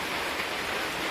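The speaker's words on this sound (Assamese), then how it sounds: "এতিয়া বৰষুণ দি আছে" Rain falls steadily outdoors, a soft, even wash of hiss with no distinct drops or pauses, fairly faint throughout.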